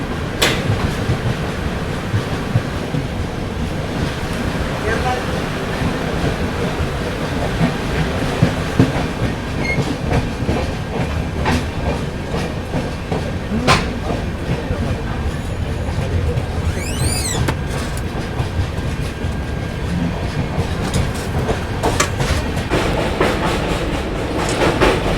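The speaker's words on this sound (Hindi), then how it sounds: "अभी अपनी ट्रेन पहुंची है अलुवा रेलवे स्टेशन" A passenger train pulling into Aluva railway station in Kerala, with a loud continuous rumble, rhythmic clickety-clack of wheels over rail joints and a brief squeal of braking wheels.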